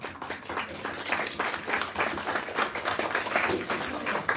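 Applause from a crowd, continuous clapping of moderate loudness with no pauses.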